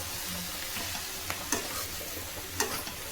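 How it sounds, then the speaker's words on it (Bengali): Cabbage sizzling and frying in a pan while being stirred, a constant soft crackle with a few scraping clinks of the utensil, fairly quiet and close. "বাঁধাকপিটা দেখুন কষতে কষতে অতটা ভর্তি কপি কতটা কমে গেছে"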